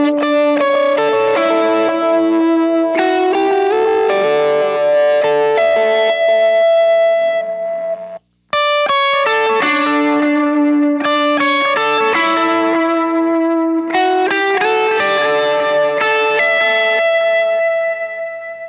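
Electric guitar plays melodic single-note lead lines through a pedalboard of effects, sustained distorted tones with reverb and echo in two phrases split by a short pause, loud and alone.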